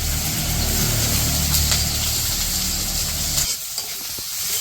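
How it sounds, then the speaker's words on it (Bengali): Onions and green chillies frying in a pan for a village dal dish, a dense close sizzle with stirring that runs loud for most of the stretch, then drops abruptly near the end, with no talking. "তো পেঁয়াজ কাঁচামরিচ ভাজা হয়ে গেছে"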